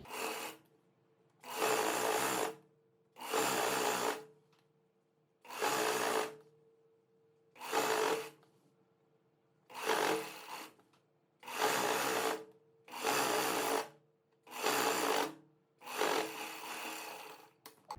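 A sewing machine stitches trouser seams in about ten short, even bursts of whirring, each followed by a brief pause, close and moderately loud.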